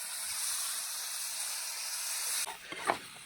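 Fish frying in oil gives a steady, faint, hissing sizzle that drops off sharply partway through, followed by a few quieter rustles and knocks.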